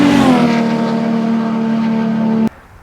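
A BMW M3 Competition E92 with a V8 engine roars loudly and steadily close by, holding a strong droning note before cutting off abruptly near the end.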